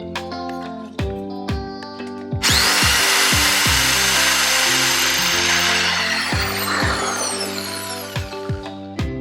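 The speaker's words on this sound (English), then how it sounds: "A lot of this driftwood is very lightweight, and so the drill bit goes through it very easily." A drill bit bores through lightweight driftwood with a steady whirring buzz, marked by sharp knocks and thumps from handling the wood, close and loud.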